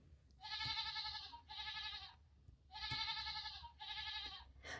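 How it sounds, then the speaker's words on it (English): A goat sound button from a children's farm animal sound book plays four loud, wavering bleats in two pairs, each about a second long, with brief gaps between them and no talking. "We also have goats that go maa."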